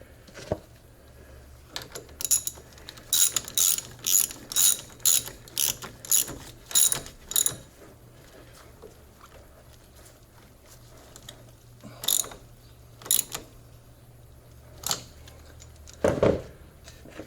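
A ratchet tightens the battery terminal nuts on a Ford F150 pickup, giving bursts of rapid metallic clicking close up, a dense run early on and then a few short spurts, with no talking.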